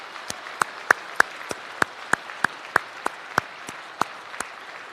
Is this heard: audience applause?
yes